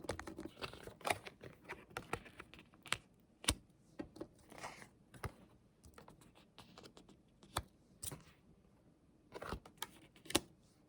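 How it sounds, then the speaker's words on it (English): Tarot cards being laid out on a table in a quiet room, giving a series of soft, crisp slaps and shuffling taps at an uneven pace, close and fairly faint with no talking. "let's just kind of lay out these cards here"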